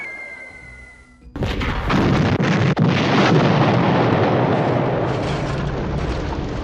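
Bombs from B-17 Flying Fortress bombers strike an enemy airfield: a quiet lead-in gives way to a sudden loud blast, then a sustained roaring rumble of explosions with a sharp crack partway through, fading slightly toward the end.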